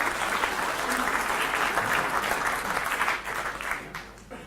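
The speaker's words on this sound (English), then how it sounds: "Give yourselves a round of applause." Audience in a lunchtime lecture hall applauding, a dense steady wash of many hands clapping that fades out toward the end.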